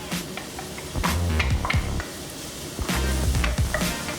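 Jalapenos hit softened onions in a hot pan, setting off a close sizzle, with bursts of stirring and scraping that come in two louder waves over a continuous frying hiss.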